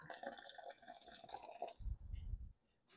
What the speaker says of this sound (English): I'm going to strain this through here. Just pour it.